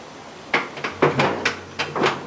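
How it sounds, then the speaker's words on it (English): A rod working the baffles of a grill open and shut, giving about six metallic scrapes and clunks in quick succession, close by, with no voices. "I hook up this rod right here, which opens and closes the baffles there"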